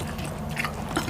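Crispy fried fish head and sautéed mung beans are chewed up close: wet, crunchy bites and mastication in a brief, continuous burst with no talking.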